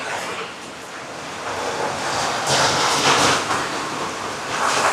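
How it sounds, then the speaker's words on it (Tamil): Water drained from a pot of cooked rice pours steadily for several seconds, a loud continuous splashing hiss that swells slightly midway. "இப்படி தண்ணியை வடிவா வடித்து போட்டு"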